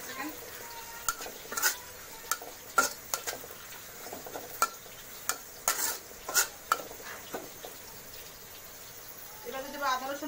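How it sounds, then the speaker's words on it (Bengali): Bay leaves and nigella seeds fry in hot oil with onions, a steady low sizzle broken by sharp clinks and scrapes of a utensil against the pan, with a brief voice near the end. "এবার দিচ্ছি তেজপাতা 2-3টা, একটু সামান্য কালো জিরা দিয়ে একটু ফোড়ন দিয়ে নেবো আমি"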